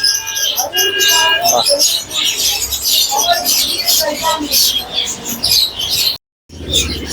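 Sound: birds chirping at Bamongachi bird market

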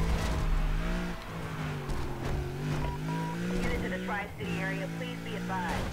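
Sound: car driving in Need for Speed Undercover video game

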